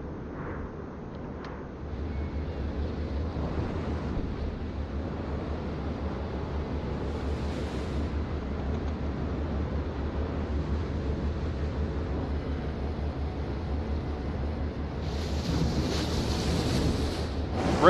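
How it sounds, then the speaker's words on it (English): Ocean waves breaking and surging around a warship in the naval battle game World of Warships, a steady close roar of surf with wind, rising briefly toward the end, no voices. "Breaking waves."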